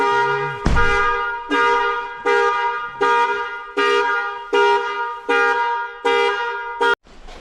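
A 2020 Ford Explorer's alarm blasts its horn in a steady run of about eight loud, evenly spaced honks, close by and alone, with a short chime just before and a sudden stop at the end.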